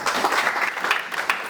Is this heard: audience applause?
yes